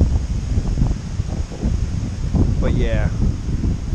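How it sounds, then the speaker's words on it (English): Wind gusts across an open viewpoint on the Appalachian Trail in Connecticut, a steady loud rumble and buffeting against the microphone, while a person speaks briefly over it. "And the wind, of course,"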